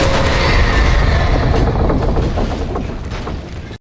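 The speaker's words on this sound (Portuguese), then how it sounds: "De onde veio essa caçamba de trem, ó?" In the video game Alan Wake Remastered, a rail car crashes with a loud, dense rumbling roar and rattling clatter that slowly fades over a few seconds before cutting off sharply.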